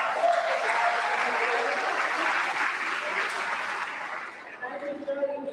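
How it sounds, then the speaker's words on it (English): Steady applause from a crowd at a middle school promotion ceremony, sustained clapping that fills most of the clip before thinning out at the end. "recognize our wonderful principal, Mr. Anita, give him a round of applause."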